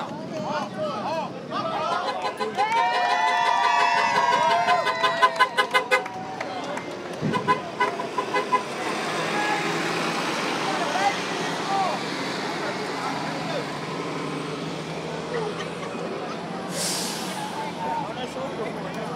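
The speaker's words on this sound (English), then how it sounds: "Protesters seem to be letting the buses through." Buses roll through a street protest on a Ferguson, Missouri road, with horn toots and engine noise mixed into a busy crowd of chattering voices throughout.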